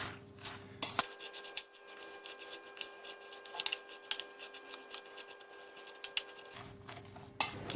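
A spoon stirs red curry paste with salt in a bowl, making close, repeated scrapes and light clinks against the sides at an uneven rhythm.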